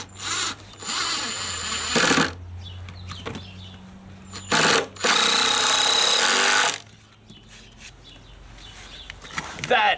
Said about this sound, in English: I'm going to use the impact gun because that'll drive it in